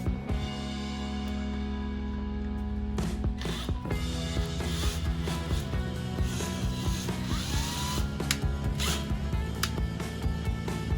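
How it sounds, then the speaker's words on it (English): A power drill bores a small pilot hole for a screw during an RV living room and kitchen remodel: a steady whining motor hum, then rougher grinding bursts as the bit bites in, close and loud. "we're going to try to just drill a little pilot hole in there to get the screw started"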